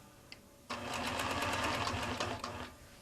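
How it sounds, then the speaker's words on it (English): An I/S Turbo sewing machine stitches while quilting, starting abruptly and running a steady rapid needle rhythm for about two seconds before stopping, heard close and clear with no talking. "I can stop the machine, reposition my guide and carry on stitching without having to keep hitting the stop start button."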